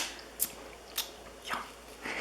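A raw oyster being eaten with an oyster fork, with several short wet slurps and bites spaced apart, close and fairly quiet, no talking.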